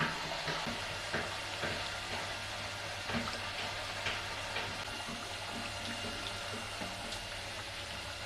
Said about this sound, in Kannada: ನೋಡಿ, ಅವಲಕ್ಕಿ ಇದು ವಡೆ ಬಿಡ್ತಾ ಇದ್ದೀನಿ